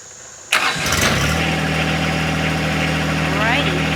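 A tractor engine cranks and catches, then settles into a steady, loud, close idle with a low rumbling hum that continues to the end.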